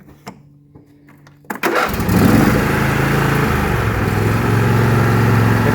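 A John Deere riding mower engine cranks and catches after a quiet stretch, then settles into a steady, loud, close idle with a low rumbling drone that holds to the end.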